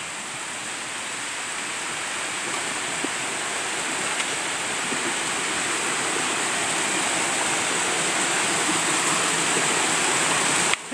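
Steady rushing water flows continuously and loudly nearby, a dense broadband wash with no voices over it, cutting off abruptly at the very end.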